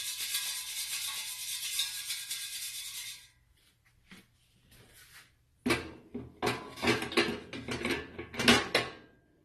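French fries shaken in the basket of a Holsem air fryer: a steady fan whir gives way to short rustling, rattling bursts of fries tumbling against the metal basket, with clatters as the basket is handled, fairly close.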